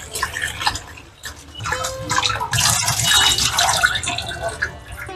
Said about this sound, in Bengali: আমি চালটাকে ভালো করে প্রথমে ধুয়ে নেব, বেছে ধুয়ে নিতে হবে।